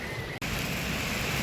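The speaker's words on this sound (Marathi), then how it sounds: "पाऊस पडतो आणि पावसामध्ये भिजतो मी" Rain falling outdoors as a dense, even hiss of drops, loud and continuous, with one very brief dropout near the start before the wash resumes.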